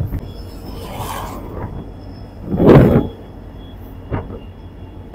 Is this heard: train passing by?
yes